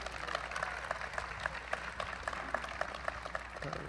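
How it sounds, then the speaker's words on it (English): Applause from a modest audience at a campus opening announcement, steady and fairly faint, with scattered distinct claps standing out from a dense background. "How about another round of applause for Angela, everyone?"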